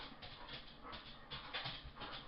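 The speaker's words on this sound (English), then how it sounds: "the dog was being a pain in the bum" A dog pants and whimpers close by, with rapid breathy pulses and small whining bursts running continuously through the whole stretch.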